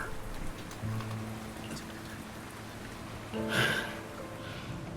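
Rain falling steadily in a video game, a soft continuous patter with a faint low tonal hum beneath and a brief louder swell of splashing midway through.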